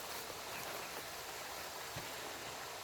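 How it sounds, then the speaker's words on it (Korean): A stream runs below a mountain trail, heard as a steady, faint wash of broadband hiss with no distinct splashes and no voices. "밑에 잘잘잘잘 물 흐르는 소리가 들리네요."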